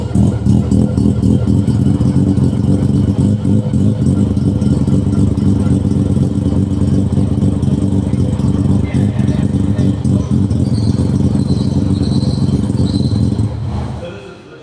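An untuned rotary engine in a van starts and idles with a heavy, rumbling drone and a steady rattling pulse, running continuously before cutting out near the end.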